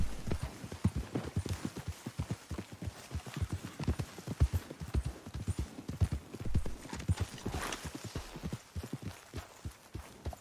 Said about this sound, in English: Javier, Your horse, it's looking well.